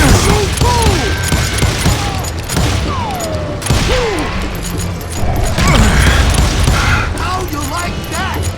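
Gunfire crackles through a busy radio-drama shootout, sharp shots and ricochet-like whines layered with clattering mechanisms and crashes, loud and dense throughout, with voices shouting amid the action.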